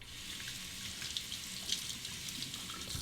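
Water runs steadily from a tap as a safety razor is rinsed under it, a close, even splashing hiss with brief brighter spatters and no voices.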